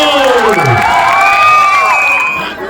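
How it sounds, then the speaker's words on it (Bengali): A large outdoor crowd at a football penalty shootout cheers and shouts loudly for the runners-up United Kalamchora, dense overlapping voices and whoops with applause underneath, fading slightly at the end. "একটা জোরদার হাততালি তাদের জন্য"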